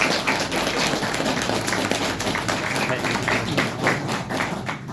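An audience in an interactive classroom session clapping hands together, a steady dense patter of claps throughout.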